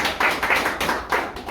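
A group of trainees at a tower crane operator rescue safety training claps together in loud, close applause, the claps bunching into rhythmic surges that rise and fall.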